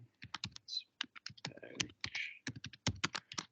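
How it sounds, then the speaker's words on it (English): Fast bursts of keystrokes on a computer keyboard, close and clear, typing a short phrase in quick irregular clusters against a quiet background. "So if I go ahead and type in monthly pellet mill"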